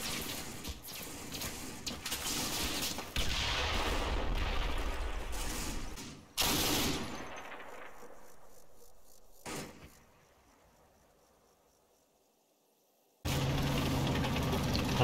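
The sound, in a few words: heavy gunfire in a WWII tank battle video game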